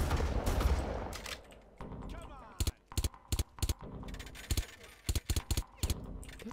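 Gunfire in the video game Far Cry, several sharp bursts of rapid shots cracking in quick clusters, loud and close, after a noisy opening rumble.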